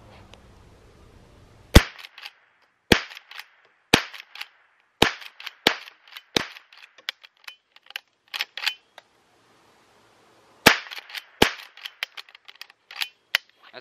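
Shots from a Henry 001 .22 caliber rifle are fired at a beer can. About a dozen sharp, dry cracks come at uneven intervals, close to the microphone, with short gaps between them and nobody talking.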